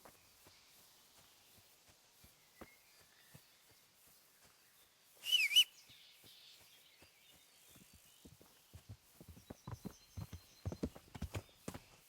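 Horse sounds from the medieval role-playing game Kingdom Come: Deliverance: a scattering of soft hoof clops and shuffling near the end, with a brief louder burst midway, all fairly quiet against a still background.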